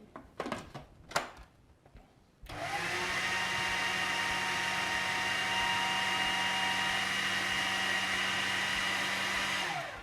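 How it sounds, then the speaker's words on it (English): An electric hand mixer whirs steadily through zucchini bread batter with baking powder, starting after a few seconds of quieter kitchen handling noises and then running loud and continuous to the end. "we're just going to give that a quick mix just to get started"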